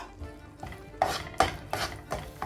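A spoon stirs thick egg curry masala in a pan, giving about five distinct rhythmic scraping strokes over a faint sizzle, close and alone.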